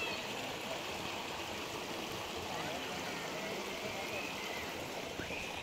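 A river at Deloso Farm in Naic, Cavite rushes steadily with a broad, continuous wash of flowing water and no pauses, loud and close throughout.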